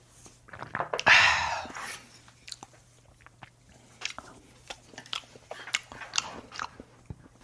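Raw fish sashimi eaten with crisp seaweed sheets (gim): one loud crunchy bite near the start, then close, intermittent chewing and smaller crunches with no talking.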